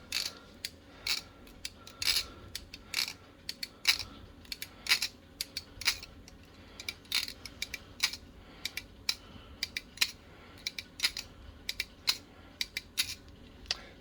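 An ELB Pro V2 folding knife is flipped open and shut repeatedly, giving quiet clicky mechanical snaps and ratcheting ticks in irregular bursts over a low background hiss.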